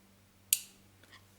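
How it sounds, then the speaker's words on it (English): A single sharp click from a fridge whose compressor is trying to start and cutting out on its overload sensor, standing out clearly against a low steady hum, followed by a couple of faint ticks. "You heard a click again. It's trying to start the compressor."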